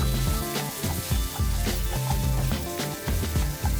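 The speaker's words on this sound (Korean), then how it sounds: "토마토 케첩 1테이블스푼과 물 3테이블스푼을 넣고 볶아줍니다" Keema curry stir-fries with tomato ketchup and water in a pan, a close sizzle broken by repeated rhythmic scraping and thumping of a spatula against the pan.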